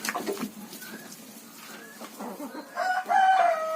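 Several chickens cluck in short bursts on a farm, building to a louder drawn-out crow near the end, fairly close by.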